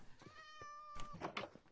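A cat meows in the Minecraft video game, one long tonal harmonic cry, quiet, followed by a few short choppy game sounds.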